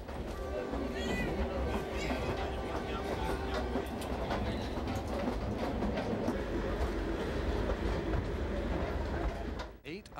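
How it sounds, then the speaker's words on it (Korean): A passenger train runs along the shore of Lake Victoria in Kenya, heading toward Kisumu station. A loud, steady rumble of wheels and carriage noise lasts throughout, with faint clatter and a brief dip near the end. "나쿠루로부터 8시간을 달리면 기차는 키스무역에 도착합니다."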